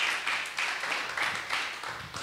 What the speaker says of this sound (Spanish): déle ese aplauso grande y poderoso a nuestro amado